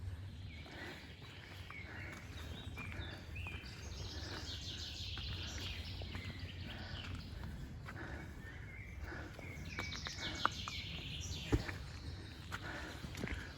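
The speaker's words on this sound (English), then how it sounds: "Listen to the birds." Birds chirp and sing in a forest in Vintgar Gorge, Slovenia, scattered faint calls over a low background rumble, with a few soft steps.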